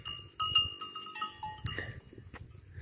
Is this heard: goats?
yes